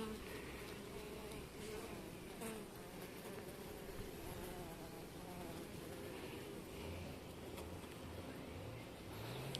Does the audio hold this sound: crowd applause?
no